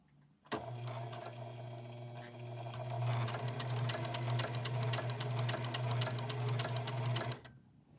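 A Singer 4411 sewing machine runs steadily up close, its motor hum overlaid by a rapid, rhythmic metallic ticking from the needle that grows more pronounced midway, with no talking.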